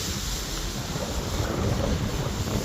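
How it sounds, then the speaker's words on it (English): Steady wind buffeting a microphone, a constant low rumble and hiss throughout with no voices. "Back out here on a windy day"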